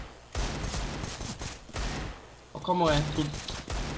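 Rapid bursts of Counter-Strike: Global Offensive gunfire crackle repeatedly over a steady background, with people talking over the shots.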